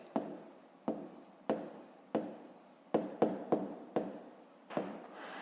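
Handwriting of figures and notes with a pen on paper, heard as a regular series of close, scratchy strokes with short pauses between them, and no speech.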